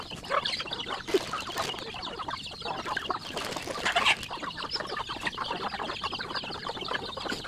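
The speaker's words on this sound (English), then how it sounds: "chickens!" Chickens cluck and chatter continuously on a small farm, a busy, close flock sound with scattered sharper calls throughout and no speech.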